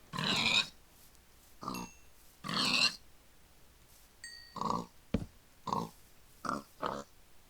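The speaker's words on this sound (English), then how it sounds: "I do not want to have all this noise continuing while we're talking, so goodbye, pig." A pig in a modded video game gives about eight separate grunts and oinks at an irregular pace. They are fairly close and distinct, with short quiet gaps and a few faint tonal game sounds between them.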